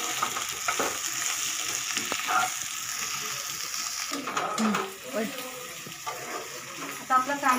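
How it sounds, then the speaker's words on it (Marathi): Onion frying in a pan for biryani makes a continuous close sizzle that thins out partway through, followed by a few light stirring knocks and clatter near the end. "कांदा मस्तपैकी भाजून झालाय,"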